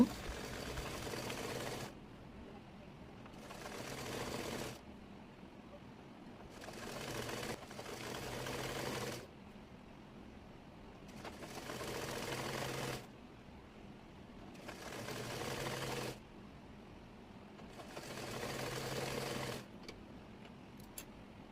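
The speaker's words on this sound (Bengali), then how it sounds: "কাপের কাপড়টির নিচের অংশ মুড়িয়ে সেলাই করে নেব" A sewing machine stitches hijab fabric in repeated bursts of a few seconds each, separated by short quiet pauses, heard up close and fairly quiet with no talking.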